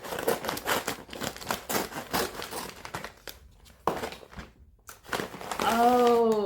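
Plastic packaging crinkles and crackles in dense bursts as scissors cut it open, close and busy, with a brief quieter gap and a short rising squeak near the end; no talk is heard.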